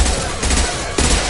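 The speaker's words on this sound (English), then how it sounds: "I love this rifle." Rifle gunfire from the video game Mass Effect 2 Legendary Edition, a dense continuous burst of shots that swells again near the end, loud and close throughout.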